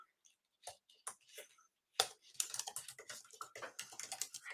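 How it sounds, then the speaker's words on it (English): Typing on a computer keyboard, a run of quick, uneven clicks that start sparse and then turn into a dense, steady patter, fairly close. "Because I'm typing."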